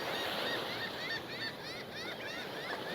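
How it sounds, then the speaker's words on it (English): Several seagulls call repeatedly in the distance at Santo Largo beach in Aruba, their cries overlapping over a steady wash of wind or surf; faint and fairly far off. "As we hear the seagulls screaming"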